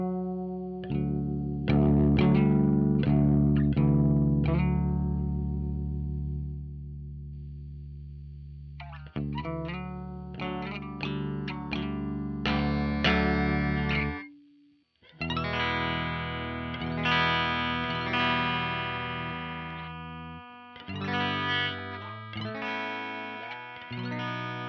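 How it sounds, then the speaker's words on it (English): A Stratocaster with all single-coil pickups plays clean through a free effects plugin, giving bright plucked notes and chords with chorus shimmer, a short pause midway, then fuller strummed passages with no voices. "I've plugged in my new Strat with all single coils, and you can kind of see what kind of clean tones we can get out of this."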